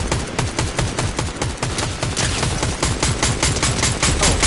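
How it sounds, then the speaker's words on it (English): Rapid automatic gunfire in a Fortnite match, a dense rattling burst of shots running continuously at close range with no voices over it. "Oh, yeah, that's shooting."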